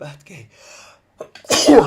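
One person sneezes sharply and loudly near the end, after brief bits of casual talk from a couple of people.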